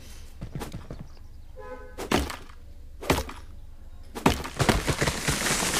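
Chopping wood for fuel in the survival game Tomorrow: several dull, heavy thunks strike at irregular intervals, close and fairly loud, with a brief quiet stretch between the blows.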